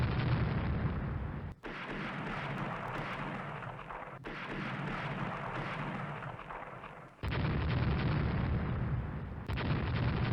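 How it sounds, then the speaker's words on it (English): Heavy naval guns pound a battlecruiser in the Rule the Waves naval warfare game, a near-continuous loud rumble of shelling with brief gaps and sharp cutoffs between salvos, no talk. "So now we're shooting the Invincible to make sure that goes down."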